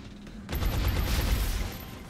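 A sustained burst of gunfire rolls through an XCOM firefight. It starts abruptly after a quiet moment and stays dense and loud with no talking.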